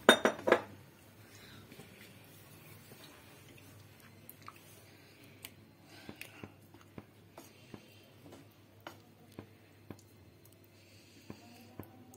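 Chicken being stirred in a cooking pot for black pepper chicken, heard as faint, irregular clinks and taps of utensil on metal over a quiet kitchen background, with a few louder knocks at the start.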